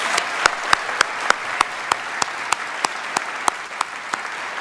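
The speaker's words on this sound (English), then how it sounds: "I think we should do another clap for the amazing" Congregation applauding during a church worship service, a steady wash of many hands with sharper individual claps cracking out at a regular beat, as though some people are clapping in time, moderately loud.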